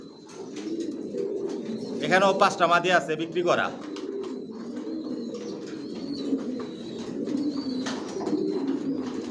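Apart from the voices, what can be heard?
racing pigeons cooing, Johnson line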